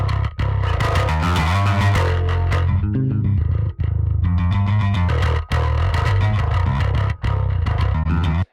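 A heavily distorted bass guitar riff, gritty and loud, with chugging notes and a few brief pauses between phrases.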